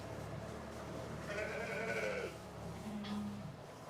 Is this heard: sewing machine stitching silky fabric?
no